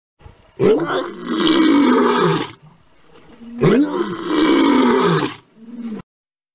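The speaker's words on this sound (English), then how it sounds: "let's have a look and a listen to the king of the jungle, the lion." A lion lets out two long, loud, deep roars in quick succession, each lasting about two seconds and breaking off into a short grunt, up close with silence between them.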